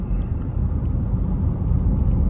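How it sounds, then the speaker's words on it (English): Road traffic near Lake Tahoe on a Monday, with lines of cars driving past: a steady low rumble of engines and tyres, close and loud, continuous throughout without speech. "Pretty surprising the amount of traffic just on a Monday"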